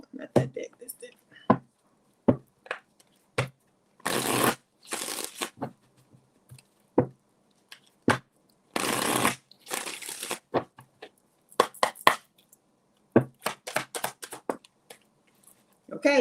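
A tarot card deck is shuffled in repeated bursts: brisk riffles and slaps, with short gaps of quiet and scattered taps and knocks between them, close to the listener.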